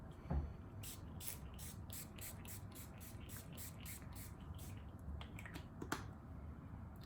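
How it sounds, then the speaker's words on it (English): In Beauty Project Power Up Dual Phase Setting Mist sprays in a quick series of short, crisp spritzes close by, followed a moment later by a few more bursts. "This is the Power Up Dual Phase Setting Mist."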